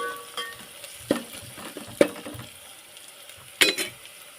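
Cowpea pods fry in a pan as a spoon stirs them, soft sizzling broken by three or four distinct scraping clinks of the utensil against the pan, no voices.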